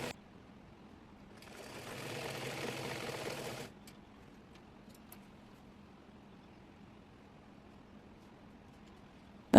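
A sewing machine stitching the hem of a petticoat runs in a single steady burst of about two seconds, moderately loud, then stops, leaving quiet room tone with a few faint ticks.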